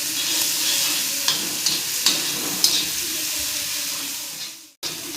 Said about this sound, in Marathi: असा मस्त तळून घ्यायचा तो ठेचा